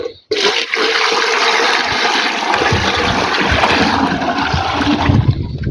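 A loud, steady rush of water pours from a bucket into a pot for several seconds after a brief pause, splashing and gurgling nearby.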